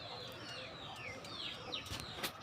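Pigeons in a loft cooing softly, several low purring calls over a quiet background with a few brighter chirps and scuffs near the end, faint and somewhat distant, no talking.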